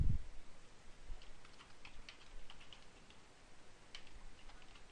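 Typing on a computer keyboard: faint, quick clicks of keys pressed in short irregular bursts, close but quiet against a soft background hiss.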